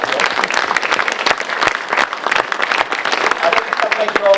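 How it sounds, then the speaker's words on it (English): An audience claps in a dense, lively round of applause for the Salvation Army, sharp hand claps overlapping steadily throughout at fairly close range. "let's give them a round of applause for winning"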